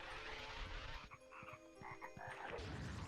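Dragon toad enemies croak in the PS1 game MediEvil, a run of short low croaks over a steady game music and ambience bed, fairly loud throughout.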